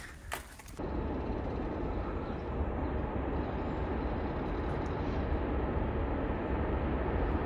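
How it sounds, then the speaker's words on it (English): A steady, heavy low rumble fills the scene after a brief quieter moment, like a train rolling past nearby, continuous and loud without letting up. "Oh, I hear a train."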